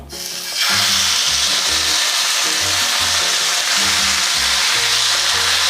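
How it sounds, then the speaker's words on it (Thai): Beef pieces hitting hot oil in a heated pan for grilled beef with jaew dipping sauce, bursting into a loud, steady sizzle after a quiet start, with music playing underneath. "พอกระทะร้อนน้ำมันร้อน ทุกอย่างพร้อมก็ใส่ลงไปเลยนะครับ"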